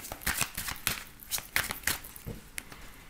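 Lenormand tarot cards are shuffled by hand at close range in a series of quick, crisp riffling bursts, clear and fairly quiet.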